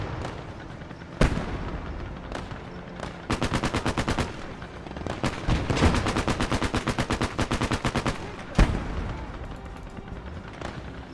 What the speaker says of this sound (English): Move that machine gun over there.